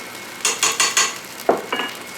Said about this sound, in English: Stir that up. Kind of want to get that butter a little bit melted.